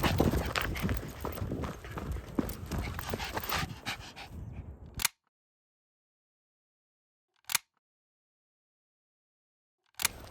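A dog pants and scrabbles about close by during play, with rapid breathing and footsteps for several seconds before the sound cuts to silence, broken by a few short isolated bursts.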